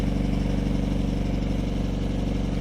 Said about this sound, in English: it has an exhaust system from Rimmers, which is stainless steel. This is really nice. It sounds really good.